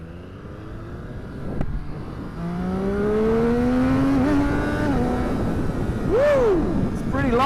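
A 2015 Triumph Street Triple RX motorcycle engine under riding, revs climbing in rising sweeps through the gears, loud and close, with a sharp throttle blip near the end and wind rush throughout.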